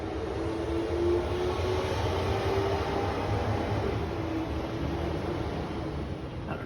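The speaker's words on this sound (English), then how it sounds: "all the trucks keep going down our street and parking outside" Construction trucks roll down a residential street as a steady, distant low engine rumble and broad road noise, continuous with no voices.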